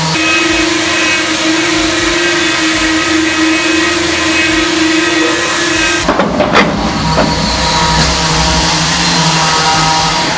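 A chaff cutter machine runs with a loud, steady mechanical drone and whir. Partway through, the tone shifts, with a few clunks and a lower hum.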